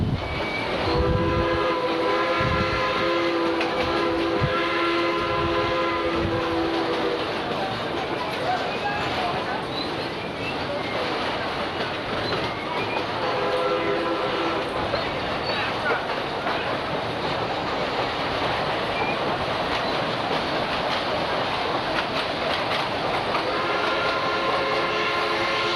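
A train sounds its horn in repeated long blasts while rolling into the station in downtown Durango, with steady rumbling wheels and clatter underneath throughout.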